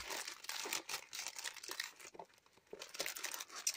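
Small plastic packets of cards are handled and shuffled close by, giving quiet, continuous crinkling and rustling with uneven bursts and no speech.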